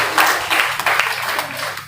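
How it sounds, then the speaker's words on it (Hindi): Students applauding to welcome a guest at an international seminar held at a college in Buxar, a steady wash of clapping filling the room with no break. "बच्चे तालियों से स्वागत करेंगे"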